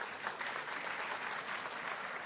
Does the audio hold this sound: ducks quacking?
no